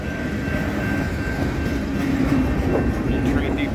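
A freight train with distributed power units rolls past at a Santa Fe junction, loud and close, a steady rumble of wheels and cars with a faint high squeal running through it.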